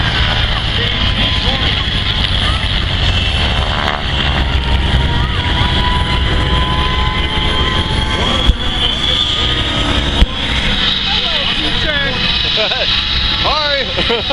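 Aircraft roar overhead at the Dayton air show, a steady loud engine wash filling the whole stretch while a person talks excitedly nearby, with a couple of brief knocks from handling.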